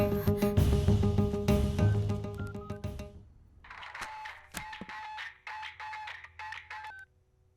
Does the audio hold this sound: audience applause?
no